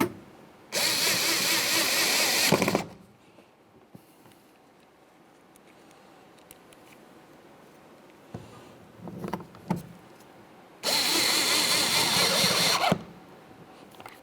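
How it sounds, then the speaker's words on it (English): A power drill drives two Phillips head screws into the front interior door handle of a 2005-2010 Chevy Cobalt, two loud, close whirring bursts of about two seconds each, separated by quiet handling noises. "then continue on with our two Phillips head screws"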